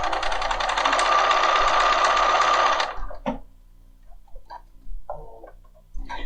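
Bernina 5 Series sewing machine stitching and knotting its thread; a fast, steady mechanical whir-clatter for about three seconds, then stops, followed by a few soft clicks and handling noises, close up.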